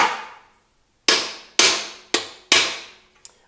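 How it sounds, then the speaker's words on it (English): A hammer drives a steel chisel against a stuck bolt on a space heater, five sharp metallic strikes close up with short ringing decays, irregularly spaced, then a faint final tap. "I'm just taking a chisel and hitting this bolt at an angle."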